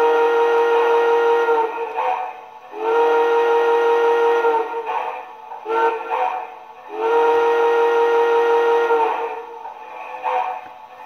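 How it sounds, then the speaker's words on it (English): An MTH model train steam whistle plays the long-long-short-long grade crossing signal, loud and close, with steam hiss underneath and no speech. "Then here's our crossing signal,"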